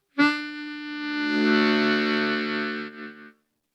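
A harmonica played through an Old Blood Noise Endeavors MAW pedal with a clean signal, a single sustained chord rich in bright overtones swelling gently and then cutting off after about three seconds.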